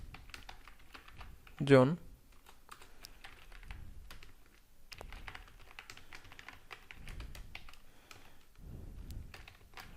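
Quick, light keystrokes on a computer keyboard while PHP code is typed, soft clicking running steadily under a voice speaking in Bengali, with one louder thump near the start.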